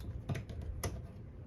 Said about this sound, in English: I type something